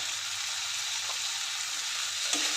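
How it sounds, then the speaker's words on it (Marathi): Turmeric and garam masala are stir-fried in a pan with onion and tomato for a green chickpea curry, giving a steady, loud, close sizzling hiss with a couple of faint scrapes. "मिक्स करून परतून घेऊया."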